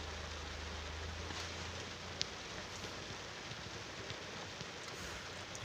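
Heavy rain pours steadily outdoors near Ghatagaon in Keonjhar District, a dense, even hiss of downpour with occasional louder drops spattering on a surface, with no voices present.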